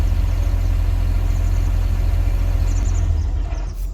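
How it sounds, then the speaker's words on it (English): A parked tractor engine idles in Farming Simulator 19 with a loud, close, steady low diesel drone that eases off slightly at the very end, with no talk. "park our tractor right here"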